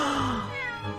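A video game cat gives a single drawn-out meow, loud and close, with no talk.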